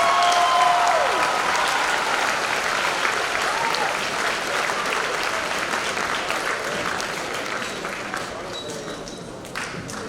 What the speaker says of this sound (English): Can I just have one more applause for Adalia, Delilah, and Mr. Kevin Schwab?